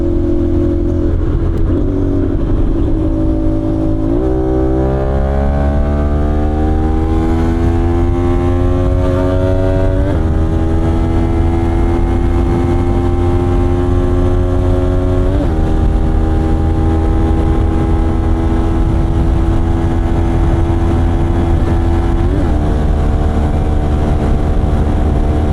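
Kawasaki-style 450NK motorcycle accelerating hard on the NLEX expressway, engine pitch climbing steadily through several gear changes with brief dips at each shift, loud and constant under heavy wind noise.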